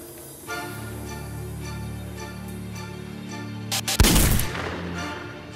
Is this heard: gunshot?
yes